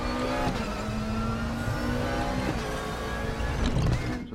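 Race car engine in a GT3 car at Sonoma in the RaceRoom Racing Experience game, revving hard and continuously with gear changes and throttle surges, loud and close for the whole stretch.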